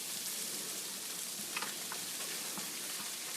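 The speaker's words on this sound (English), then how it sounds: "finishing up here with my veggies, because I do want them to get nice and sauteed." Vegetables sauteing in a hot pan, a steady close hiss of sizzling with a few faint stirring clicks, continuous and fairly loud.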